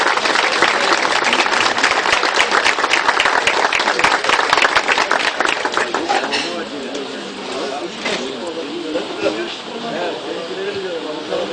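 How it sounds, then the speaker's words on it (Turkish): An audience at a breakfast gathering applauds, with dense, loud clapping for about six seconds that thins into scattered claps and crowd murmur, while voices talk over the tail. "Onlara da bir alkış çalalım."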